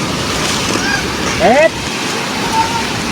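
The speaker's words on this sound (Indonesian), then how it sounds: "Tuh, kita menyeberangi sungai." River water rushes steadily as hikers wade across a stream on a forest trail on Mount Merbabu, a broad wash with wind against the microphone and a few brief voices and calls over it.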